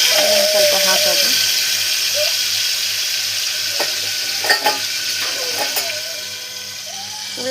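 Tempering splutters and sizzles steadily in a pan as tomato goes in and gets stirred, with a constant frying hiss, occasional clinks of a utensil and a person talking over it.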